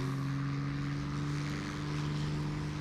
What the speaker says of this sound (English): let's get the engine up to speed